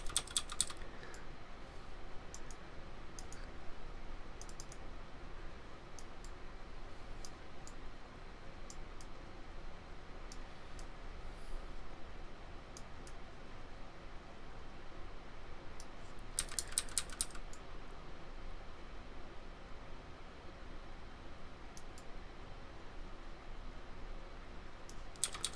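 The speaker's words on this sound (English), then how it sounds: "that's me adjusting the bracket keys to make the mouse bigger or smaller" Computer keyboard bracket keys are tapped in scattered single clicks and short quick clusters over a steady hiss, close and fairly soft, with no talk.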